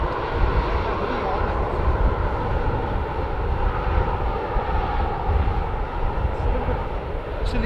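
Airplane engines roar at Edmonton International Airport, with a KLM A330 nearby, a loud, steady broadband rumble that holds without a break for several seconds.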